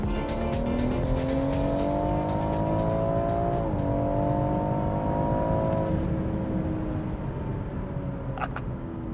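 A tuned BMW M140i hatchback is driven hard, the engine revving up in a loud, close, rising drone that dips briefly at a gear change before climbing again.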